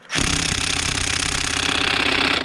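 Impact wrench trying to loosen a stuck, hand-tightened bolt, a loud, close, continuous rapid hammering burst lasting about two seconds before cutting off.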